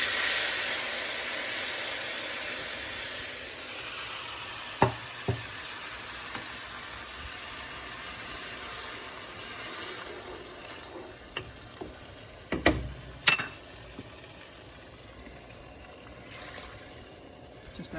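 Browned rice sizzling steadily in a hot pan with a broad frying hiss, then a few clanks and louder spits as tomato is added, close with no talking.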